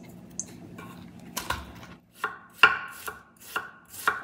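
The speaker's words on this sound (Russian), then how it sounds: "Как видите, капусту нашинковала." A knife shredding cabbage on a board, a series of crisp separate chops at uneven intervals roughly every half second, close and clear with faint background noise and no talk.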